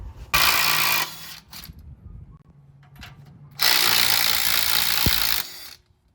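Power ratchet or air tool spinning off U-bolt nuts on a Ford Excursion during a lift build, two loud sustained whirring bursts close by with quieter clanks between them.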